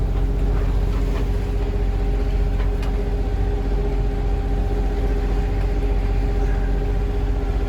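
A sailboat's inboard engine running steadily while under sail in the rain, a continuous low droning hum with a constant tonal whine, close and unbroken throughout with no speech.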